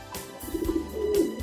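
A pigeon coos in a soft, brief rolling call of a couple of low notes, heard alone and at moderate volume.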